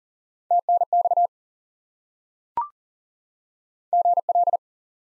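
Morse code tones keyed in two identical bursts spelling GL for good luck, a clear steady beep sent as quick dots and dashes, with a short click between the groups and silence around them.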